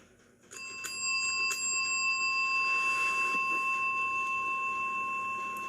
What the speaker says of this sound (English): He rings the bell a few times to show James that it works